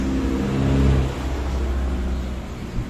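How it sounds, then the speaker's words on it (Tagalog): A motorcycle engine runs after its ECU wiring is repaired following a reversed-polarity fault, a steady mid-pitched idle with a brief rev swell early on, heard close and alone. "So, ito yung motor, umaandar na yan."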